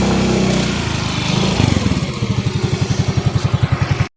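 A motorcycle engine runs loud and close on a short ride toward Ternate Beach in Cavite, first as a steady roar and then as a rapid, even pulsing beat near the end.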